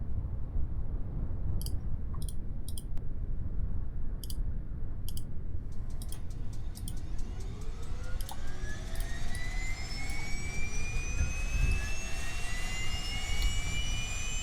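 Jet engines of an aircraft in Kerbal Space Program spooling up from a steady low roar, with rising whining tones sweeping upward, preceded by a few sharp game clicks; loud and continuous, with no talking.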